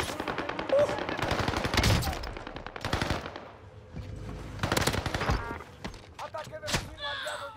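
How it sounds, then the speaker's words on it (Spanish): Gunfire from the video game Warzone rings out in several rapid automatic bursts and single shots, loud and close, with quieter gaps between bursts and a player talking over it. "Alguien te está disparando, no lo veo."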